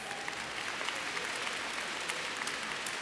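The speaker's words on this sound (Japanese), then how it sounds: "スタンドからの拍手を聞いてどんなお気持ちですか" Applause rolls down from the stands of a volleyball arena after a V.League women's match, a continuous, even wash of many hands heard from a distance at low level.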